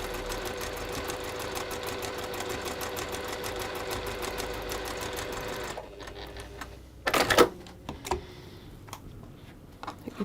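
A sewing machine runs steadily while chain piecing fabric, giving a fast, even stitching rattle for about six seconds. It then stops, followed by a sharp burst of handling noise and a few faint clicks.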